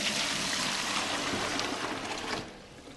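Water pours steadily into a container as the first ingredient of a Thanksgiving brine, a continuous close splashing rush lasting nearly three seconds before tapering off, with no talking.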